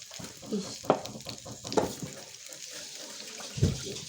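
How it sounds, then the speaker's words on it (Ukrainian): Chicken nuggets sizzling and crackling steadily in hot oil in a frying pan, with a few sharper pops and clatters from turning the pieces. "Беремо наші нагетси, достатньо олії і обжарюємо з усіх сторін"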